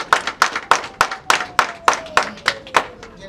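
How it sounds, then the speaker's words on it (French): Rhythmic, unison clapping rings out at a political rally in Benin, about a dozen loud, evenly spaced claps a quarter second apart, with a faint tone drifting underneath. "Applaudissez, applaudissez."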